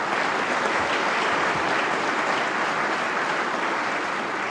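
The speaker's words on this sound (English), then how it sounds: "let's keep clapping for the staff here that trained them" A large crowd claps steadily at a police recruit class graduation, a dense, even roar of applause filling the hall without pause and with no voices on top.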